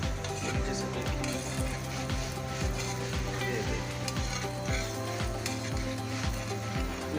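An aloo paratha fries in ghee in a pan, giving a continuous close sizzle broken by regular scraping strokes of a spatula.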